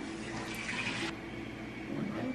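Tap water runs steadily into a container while a cup of water is measured out for brownie mix, a close, continuous splashing rush with no talk over it.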